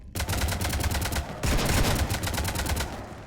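Rapid automatic gunfire aboard a ship in Mass Effect, a loud, dense string of shots with a brief break near the middle before the firing resumes, close and continuous.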